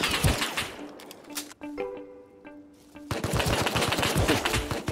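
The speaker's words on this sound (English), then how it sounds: "Shooting at your dead body." Gunfire in the survival game Rust aimed at a dead body, dense rapid bursts of shots at the start, a short pause with ringing tones, then another sustained loud volley to the end.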